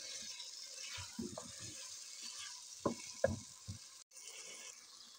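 Potatoes, fenugreek and peas fry in a pan with a faint steady sizzle, while a spatula stirs and scrapes in soft, irregular knocks close by.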